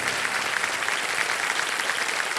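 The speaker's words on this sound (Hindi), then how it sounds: "तालियां बज रहे हैं" Studio audience on the KBC quiz show bursts into steady, dense applause, an unbroken wash of many hands clapping throughout the short stretch.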